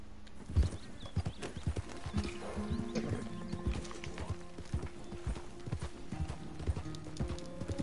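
Hooves of a Turkoman horse in a video game clip-clop in a steady trotting rhythm, close and clear, with a short whinny and some faint game sound effects layered over the footfalls.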